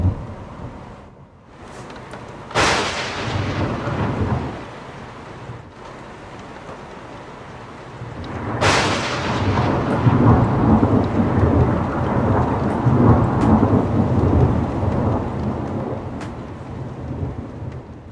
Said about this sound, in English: New Zealand Met Service were forecasting further lightning storms